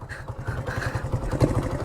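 Engine of a Debit Putra motorcycle revving in steady pulsing bursts, loud and close, with a throaty rhythmic beat and no talk over it.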